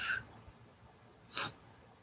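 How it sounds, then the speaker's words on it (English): A single short, breathy sneeze bursts out near the end after a faint sniff at the start, quiet and close in an otherwise hushed indoor room. "I just sneeze. I have to sneeze."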